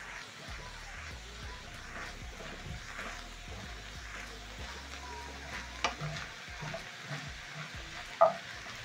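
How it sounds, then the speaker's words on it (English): Cabbage and minced beef frying together in a pan for a healthy stir-fry, stirred with a spatula: a steady close sizzle with soft scraping strokes and a few sharper clinks near the end, no talking. "So I'm going to use my spatula and stir in as the cabbage cooks for around 2 minutes."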